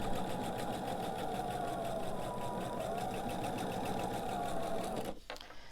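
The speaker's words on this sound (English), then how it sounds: "So sew a few and check them." A sewing machine chain-pieces lazy angle beach ball quilt squares with a steady, close mechanical whir that runs for about five seconds and then stops abruptly.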